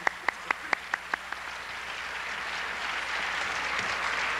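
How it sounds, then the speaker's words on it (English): A few sharp, rhythmic single claps open, then swell into a broad, steady applause from the audience at a university Slavic evening, the crowd clapping continuously at moderate volume until the end. "let's give another clap"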